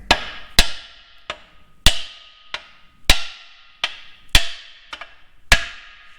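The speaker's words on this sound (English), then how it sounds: "I want to take a hammer" Sharp metallic hammer strikes on DT239 engine parts during crankshaft installation, about ten hard blows at an uneven rhythm, each ringing briefly before the next hit, close and loud.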